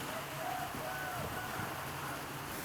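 Steady rain falls by the sea where young swimmers train, a continuous soft hiss with a faint wash of surf underneath and no one speaking.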